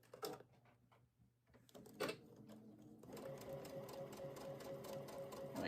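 A sewing machine joins quilt rows together, with a few short bursts of stitching early on and then a steady, even run to the end, close and moderately loud.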